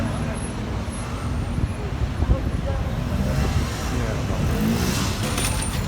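A McLaren supercar drives along a Paris street, heard as steady, dense road rumble with a broad traffic wash that swells slightly in the later seconds, with faint background voices.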